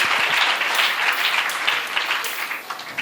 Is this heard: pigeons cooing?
no